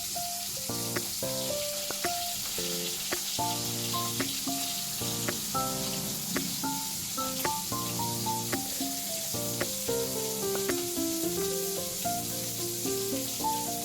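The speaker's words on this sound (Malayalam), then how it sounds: "അപ്പുറത്ത് മീൻ വറുത്തോണ്ടിരിക്കുന്നുണ്ട് കേട്ടോ" Mackerel fish frying in a pan gives a steady sizzle that sits under louder melodic background music throughout, with no talking.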